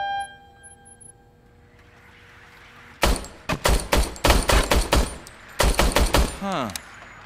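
A broken, freshly calibrated service pistol fires in a shooting test in RoboCop: Rogue City, with a quiet lull and then a rapid string of sharp, loud shots in two bursts, followed by a brief descending electronic tone.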